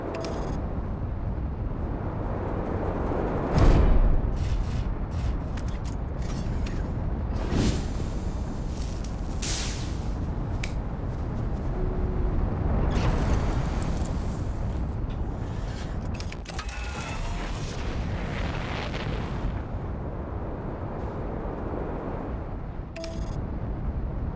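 A spaceship explodes in a ball of fire in the Outer Wilds video game, heard as a steady, dense rumbling roar that fills the whole stretch, with a heavier thump early on and a few sharp clicks over the wash.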